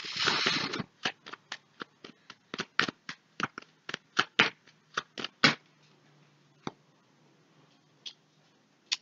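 Playing cards for a card reading are riffled, then laid out one by one onto a table in a quick run of soft snapping slaps, slowing to a few isolated taps; close and quiet.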